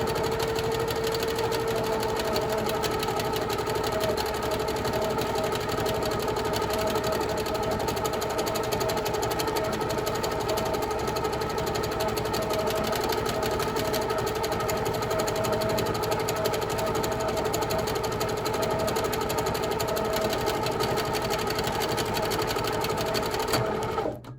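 A longarm quilting machine runs continuously at close range, stitching free motion curves in a fast, even mechanical rhythm with a steady motor hum and no pauses.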